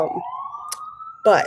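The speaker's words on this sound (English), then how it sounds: "If you hear the sirens in the background" A police siren wails steadily in the background on a New York City street, a single drawn-out rising tone heard under a speaking voice.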